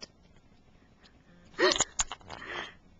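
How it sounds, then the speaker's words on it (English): A parrot gives a short, sharp sneeze up close, with a quieter wheezy follow-up a moment later in an otherwise quiet room. "That is a sneeze, yes, on my glasses."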